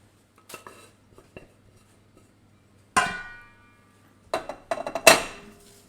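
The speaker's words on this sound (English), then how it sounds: "I'm going to tip my couscous into the bowl as well." Couscous tipped from a pot into a bowl while making an eggplant and Israeli couscous salad, heard as a loud clatter of metal against the dish after soft earlier knocks, then a quick cluster of clanks, close and without talk.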